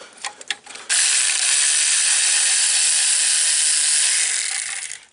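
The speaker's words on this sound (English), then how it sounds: "let me swap over to my little electric ratchet" A small electric ratchet runs steadily for about four seconds, backing out a 10 mm bolt on the exhaust manifold of a 2007-2011 Jeep Wrangler JK 3.8L engine, after a few faint clicks and handling taps; loud and close, no talk.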